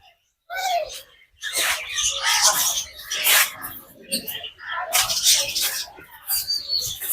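Birds in the Kankaria zoo aviary in Ahmedabad, including a koel, give a dense, loud chorus of chirps and calls close by, with someone talking over them.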